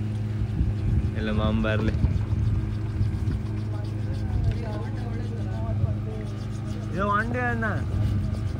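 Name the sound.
fishing boat with 9.9 outboard engine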